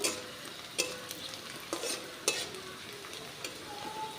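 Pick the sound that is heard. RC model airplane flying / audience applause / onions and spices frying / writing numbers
onions and spices frying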